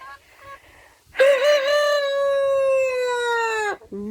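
A rooster crows once, loud and close, in a long drawn-out call that tails off, with softer clucks before and after, at a backyard setting where chicks are hatching.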